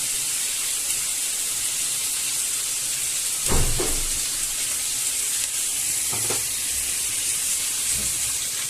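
Hot water poured onto sautéed chicken for a chicken curry gives a loud, steady hiss of sizzling and steam, broken by a few brief splashes and clatters.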